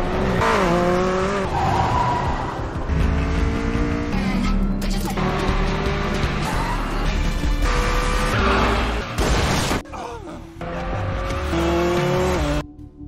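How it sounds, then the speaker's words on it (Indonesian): A car in a film chase scene speeds off with tires squealing, loud engine roar and skidding screeches filling the scene, with brief sharp impacts and a short dip before the revving resumes. "untuk menyerang detektif Nevin dan kabur menggunakan mobil Justin."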